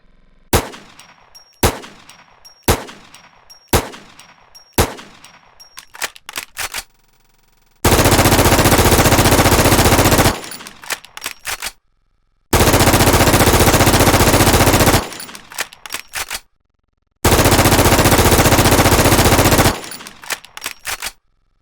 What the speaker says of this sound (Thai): นั่นก็คือปืน ACR ครับ